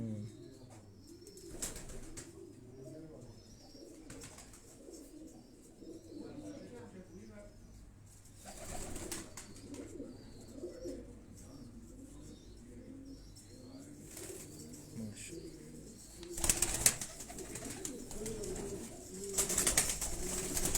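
Fancy Aseel pigeons coo in low repeated rolls, with occasional bursts of wing flapping, while people talk nearby throughout.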